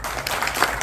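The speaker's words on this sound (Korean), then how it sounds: "다시 한번 박수 보내드립니다" Audience applause at a seminar, a dense, steady wash of clapping from a crowd filling the room at an even level throughout.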